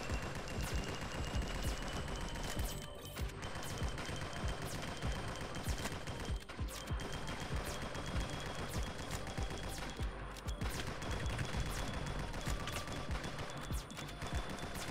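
Rocket launcher explosions and rapid gunfire from the game NIMRODS: GunCraft Survivor, a dense, continuous barrage of loud blasts and shots layered throughout with no pauses.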